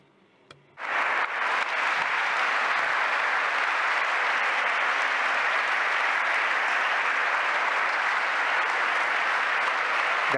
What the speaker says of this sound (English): the applause we're hearing now